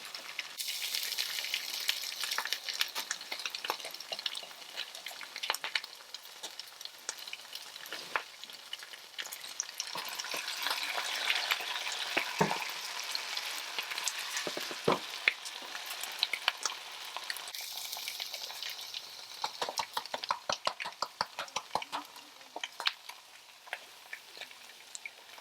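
Food sizzles and fries steadily in a thick skillet, a dense, continuous crackle with scattered sharper pops, close and moderately loud with no talking.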